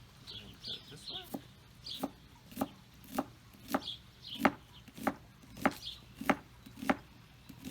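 Knife chopping an onion on a cutting board: about a dozen crisp, evenly spaced taps at a steady rhythm, quiet and close, with faint background noise.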